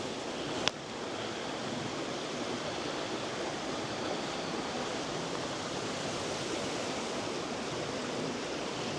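Moving water of a woodland stream, a steady even rush of flowing water with one brief sharp click near the start, fairly faint and continuous.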